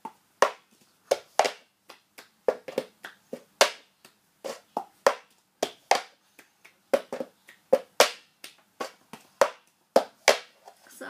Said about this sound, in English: keep practicing the cup beat